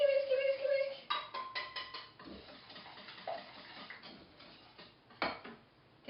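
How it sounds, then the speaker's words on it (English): Egg yolks whisked with milk and flour in a bowl for Portuguese tart custard, giving quiet rhythmic ticking and clinking of a whisk against the bowl. "Whisk."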